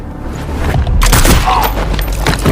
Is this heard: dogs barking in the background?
no